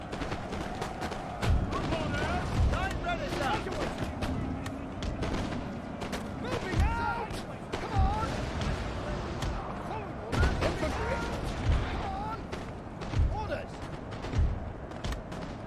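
Scattered booms of artillery and crackling musket volleys ring out over a Napoleon: Total War battlefield, heavy thuds spaced every few seconds with distant gunfire between them, and a voice talking over the battle throughout.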